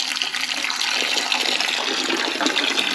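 Coolant gushing out of an Audi A6 4.2 V8 engine during intake manifold removal, a loud, steady splashing pour of liquid that runs without a break.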